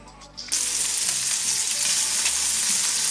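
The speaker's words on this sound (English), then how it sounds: "Then we put the lardons into an appropriate pan. We don't need any oil, there's enough fat that's going to come out of these lardons to cook everything." Lardons hit a dry pan with no oil and sizzle loudly right away, a close, steady crackling hiss of frying fat that keeps going after a brief quiet start.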